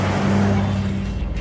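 A Shelby 428 engine fires up and runs, steady and close, with a loud low rumble and no talk over it.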